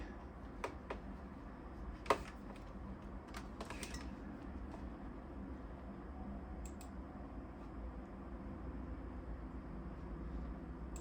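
Keys tapped on a computer keyboard to enter a terminal command on a PowerMac running Linux, heard as a few sparse, faint clicks over a steady low background hum.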